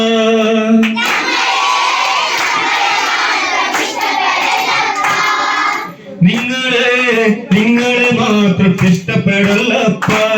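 A group of children at a one-day village camp sing together loudly and clap along in rhythm, their chorus of voices dominating with hand claps mixed in throughout.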